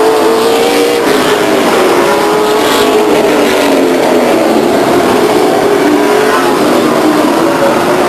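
A late model stock race car screams around Stockton 99 Speedway, a loud sustained engine roar with shifting pitch as it passes at speed, continuous throughout without pauses.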